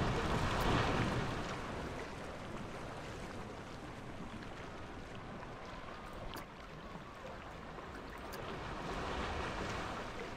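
Rushing water on a boat ride in the Planet Coaster theme park game, a steady wash of splashing and surf-like noise running continuously at moderate level without speech.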